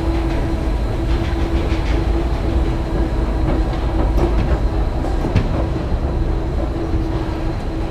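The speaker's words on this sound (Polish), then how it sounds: "To jest niebieska linia metra." A Stockholm blue line metro train runs on, with a loud, continuous rail rumble and a steady whine and occasional rattling clicks throughout, without voices.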